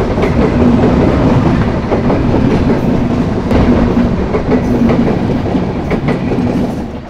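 Shilahati Express train number 6639 passing at a railway crossing near Sharatnagar station in Bangladesh, a loud, close rolling rumble with rhythmic clickety-clack of wheels over rail joints, steady throughout and easing slightly at the end.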